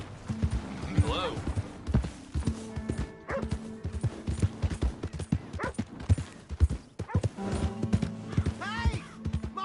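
Rhythmic clip-clop of horse hooves in Red Dead Redemption 2, mixed with barking, whinnies and other game sounds, with voices speaking over the busy activity.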